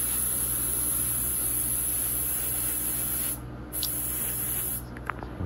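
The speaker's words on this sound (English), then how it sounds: "a big old fat spray pattern on this thing" Aerosol sealant sprayed onto a canvas painting, a close, continuous hissing spray that pauses briefly twice near the end.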